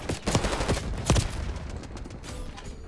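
SMG fire with a 50-round magazine in a Call of Duty game, with a few quick, moderately loud shots and bursts early on, then fading into softer background game noise.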